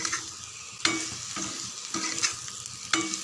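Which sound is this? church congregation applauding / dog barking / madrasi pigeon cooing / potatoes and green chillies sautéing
potatoes and green chillies sautéing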